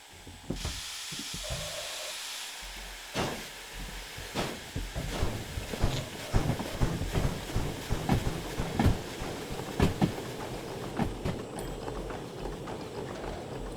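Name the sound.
S282 train running on rails in Derail Valley video game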